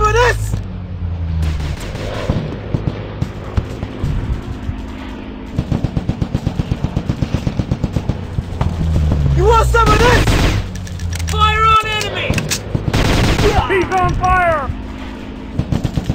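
Rapid machine-gun bursts and heavy gunfire pound through a Commando Strike shooting game battle, loud and close, in repeated volleys mixed with shouted in-game voices.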